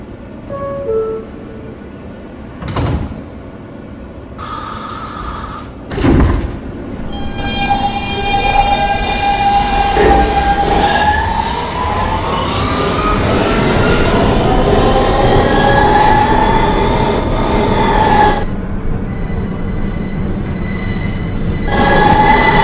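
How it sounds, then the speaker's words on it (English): A Manhattan-bound R express subway train departs a station with loud rumbling, rising motor whine and squealing wheels that build and hold steady, close by, with a few sharp clunks at the start. "This is a Manhattan-bound R express train."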